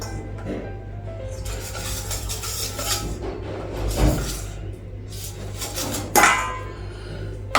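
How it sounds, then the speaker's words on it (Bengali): A lid lifted off a cooking pot in a home kitchen, with soft metal scrapes and clinks over a low steady hum, and a couple of sharper knocks near the end. "ঢাকনাটা উঠাবো"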